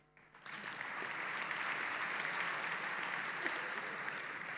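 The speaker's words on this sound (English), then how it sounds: "Can we have more loud applause, please?" Steady applause from a graduation ceremony audience at APIIT, a dense, sustained patter of many hands that swells in after a brief quiet start and holds evenly throughout.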